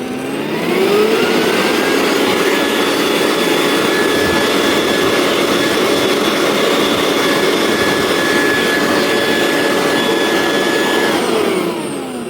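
An electric air blower used for clearing bees off frames runs at its second speed with a loud, steady whooshing roar and a whining motor tone that spins up at the start, holds evenly, then begins winding down near the end.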